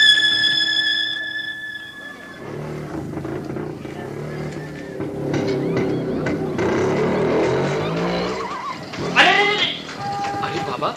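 Radio-play effect of a motorcycle skidding past in a near miss, its engine whine rising and blending with a sharp screech near the end, loud and close under voices and a bell-like tone at the start.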